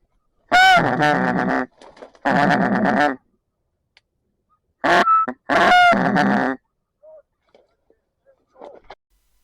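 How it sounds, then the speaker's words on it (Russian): Wild geese honking overhead at dawn on a goose hunt in the Elbe floodplain, loud bursts of calls in two groups with quiet gaps between, a few fainter calls trailing off at the end. "Гуси облетали нас"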